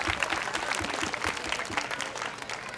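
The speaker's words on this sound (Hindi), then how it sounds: "जोरदार तालियां बजाइए।" Audience at a school performance event clapping loudly and continuously, a dense burst of many hands applauding together close by, with no clear talk over it.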